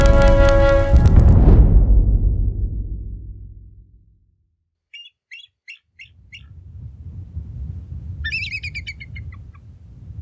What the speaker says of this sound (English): That wretched bird.